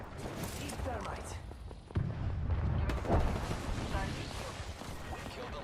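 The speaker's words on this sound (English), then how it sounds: "Thermite grenade." Thermite grenade in Apex Legends detonating amid a firefight, with a sharp blast and then a second loud burst, followed by crackling roar and scattered gunfire, close and loud, while voices talk over it.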